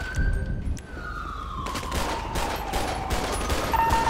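Gunfire from a woman shooting in GTA 5 arrives as a rapid burst of cracks partway through, with a police siren wailing and sliding down in pitch over a rumbling background.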